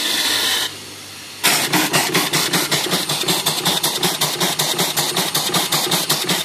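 An Allen steam engine driving an alternator chugs in a fast, steady rhythm of sharp exhaust puffs, close and loud, following a brief hiss and pause.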